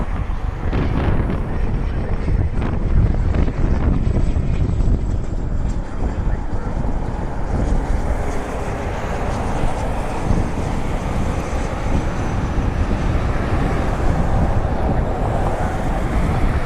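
Cessna Citation business jet at Cleveland Hopkins airport, a sustained low jet rumble mixed with wind buffeting, loud and fairly close, with a faint high whine and occasional voices.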